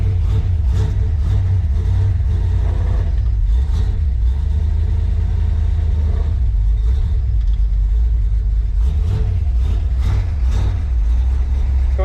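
A classic car's engine runs after a four-speed manual transmission swap, idling with a loud, steady rough rumble and slight rhythmic lope, sounding close and continuous with no talking over it.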